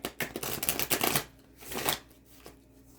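Tarot cards being shuffled in a quick run of crisp riffling bursts, with a louder flurry at the start, a softer pass near the two-second mark and a single faint flick at the end, heard close and alone.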